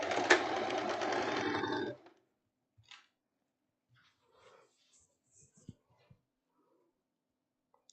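A sewing machine runs steadily for about two seconds, stitching the side seams of chambray trousers, then stops abruptly and leaves only faint handling noises and light clicks.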